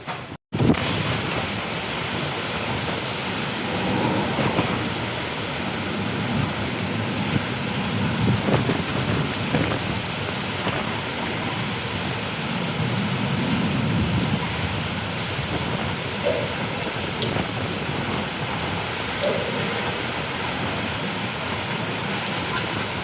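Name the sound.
unseasonal rain with thunder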